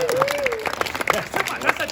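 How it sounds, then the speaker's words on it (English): A small audience at a live close-up magic show gives a brief, scattered round of clapping that sounds tepid, with talking over it throughout. "Melissa, give her a tepid round of applause."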